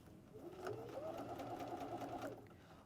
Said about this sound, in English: and then start stitching.